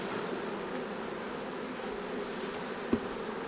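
Honey bees at a long hive make a dense, steady buzzing drone throughout, close and even, with one brief tap near the end and no voices.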